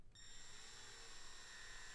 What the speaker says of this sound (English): Luckily I have my drill, because I don't know that I could hold these and screw.